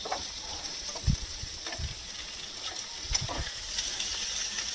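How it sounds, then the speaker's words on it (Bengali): Raisins fry briefly in hot oil in a pan for upma, a moderate steady sizzle with a few soft low thumps from stirring. "কিশমিশটা দিয়ে কিন্তু বেশিক্ষণ ভাজবো না, এই গরমে গরমেই কিন্তু কিশমিশটা ভাজা হয়ে যাবে।"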